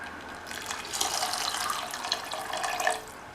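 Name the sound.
water poured into tamarind curry pot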